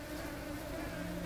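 Small flies buzzing in the video game Supraland, a faint, continuous low drone with a steady hum and no other sounds.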